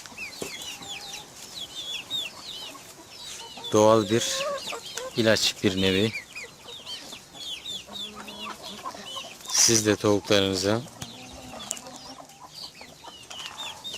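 Backyard hens cluck and chatter in short, repeated bursts near and far, while someone speaks calmly over them throughout.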